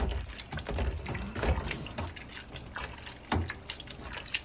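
Homemade chicken noodle soup is stirred in a pot, producing soft, irregular liquid swishes and sloshes at close range, fairly quiet overall.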